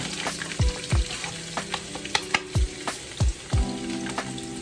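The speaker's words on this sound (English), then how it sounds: "Love that sizzle." Onions and orange bell pepper sizzle in a hot wok with a constant hiss, broken by several clanks and scrapes of stirring, close up, no speech.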